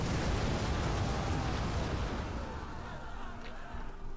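Artillery volley striking enemy troops in a Total War: Rome 2 battle, Egypt against Athens: a dense, sustained rumble of impacts and explosions that slowly fades, with a voice faintly underneath.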